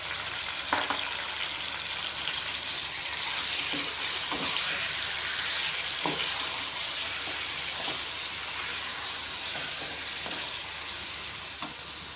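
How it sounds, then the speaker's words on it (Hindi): Marinated chicken with sautéed spices frying in a pot, a steady broadband sizzle with occasional stirring clicks and scrapes throughout, close and continuous with no talking. "चिकन हमारा पक रहा है"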